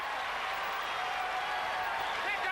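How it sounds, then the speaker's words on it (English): A basketball crowd at a 1994 World Cup game, USA versus Spain, roars steadily after a slam dunk, a dense wall of cheering with commentary talk blended in. "Crowd going wild"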